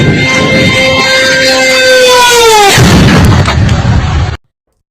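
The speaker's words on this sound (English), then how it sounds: "That is the sound of a drone dropping bombs and the devastating reality of modern warfare" Explosions from bombs dropped by a drone in a war zone burst loudly, preceded by descending whistling tones and followed by a rumbling, crackling blast that cuts off abruptly.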